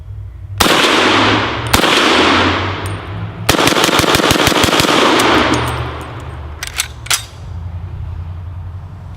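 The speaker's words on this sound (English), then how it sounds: "Let's see, pop some of these tin cans here." Rifle shots fired at tin cans, likely an old lever-action style rifle, ring out outdoors: two single loud cracks with long decaying echoes, then a rapid burst of sharp impacts and several more scattered shots.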